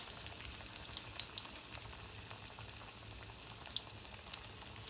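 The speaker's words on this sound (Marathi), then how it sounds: "तर अशाच प्रकारे आपण भजे जे आहेत सर्व प्रकारचे तळून घेऊया." Spinach bhaji (palak bhaji) fry in hot oil with a faint, steady sizzle and scattered soft pops, quiet and continuous throughout.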